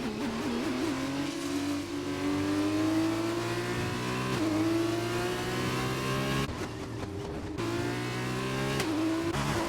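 Formula 2 race cars in a racing video game on the Russia circuit, dicing through an overtake: a loud, continuous high engine whine that climbs steadily, broken by quick upshifts, with no talk.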